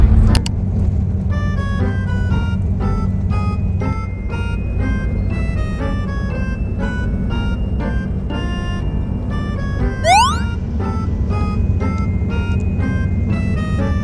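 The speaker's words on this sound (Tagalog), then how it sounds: "Bababa na kami ng bus." Bus ride near Alabang, a steady loud low engine rumble with road noise, overlaid by a sustained musical tone pattern and a brief rising chirp.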